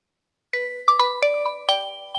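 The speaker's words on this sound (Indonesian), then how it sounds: "Sorry, ada telepon." A phone ringtone for an incoming call starts abruptly and plays a bright, loud chiming melody of several quick notes.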